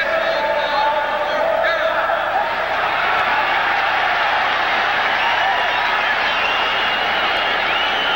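A taunting crowd roars continuously at a 1980 Oilers vs. Bengals football stadium, a dense, loud wash of voices that stays steady throughout, without distinct claps or chants standing out.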